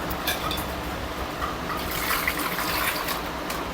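Water pours steadily into a pot of cooked, mashed dal for pappu charu, a continuous close splashing gush with no talking.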